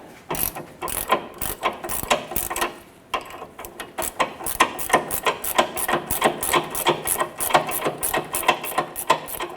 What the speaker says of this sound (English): Using a 15mm gear wrench, let's go ahead, loosen and remove our sway bar end link nut.